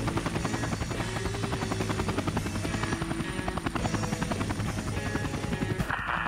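A helicopter comes in to land in the Vietnam War video game Air Conflicts: Vietnam, a loud, close, continuous rotor chop and engine drone with a steady pulsing beat and no talking.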